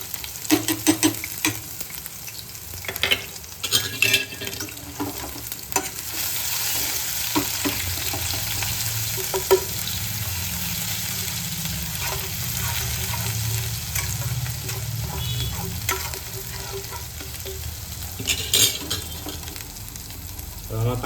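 Ginger garlic paste frying in a pan for misal pav, a loud continuous sizzle with repeated scraping stirs and occasional utensil knocks, close up and without speech.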